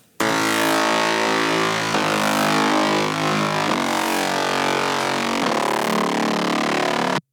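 A dubstep bass mid layer from an Ableton Drift synth patch pushed through a saturator and EQ with its sub cut away, playing loud, dense, buzzing sustained notes that shift pitch in steady blocks of about two seconds each.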